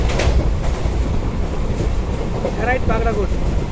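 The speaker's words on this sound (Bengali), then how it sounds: "আমরা যে ডিজেল ইঞ্জিনে যাচ্ছি স্পিড দেখাচ্ছে নাইনটি সিক্স" A diesel-hauled passenger train runs at speed on the Siliguri to Hasimara line through forest country, giving a steady, loud rumble and rattle throughout, with a voice briefly heard near the end.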